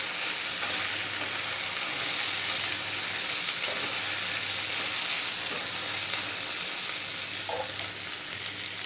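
Masoor dal with ginger sizzles steadily in a hot pan while a spoon stirs it, a loud, continuous frying hiss with occasional scraping touches, close up and without any talking.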